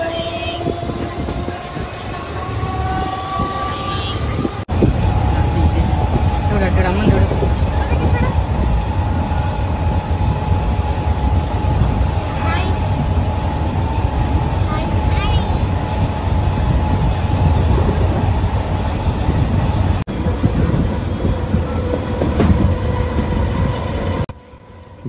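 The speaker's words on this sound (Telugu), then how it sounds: "మన ట్రైన్ అయితే పొన్నేరి రైల్వే స్టేషన్ నుండి అయితే బయలుదేరేసింది అనమాట." A MEMU express train rolls along just after leaving Ponneri station, its steady loud rumble and clatter heard from inside the coach, with faint wind noise and brief cuts in the recording.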